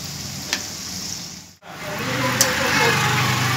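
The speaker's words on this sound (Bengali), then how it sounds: "এভাবে উল্টে পাল্টে ভালো করে ভেজে নিতে হবে।" Palm pitha cakes fry in oil over a very low flame, a steady soft sizzle running throughout with a brief dip midway as they are turned over.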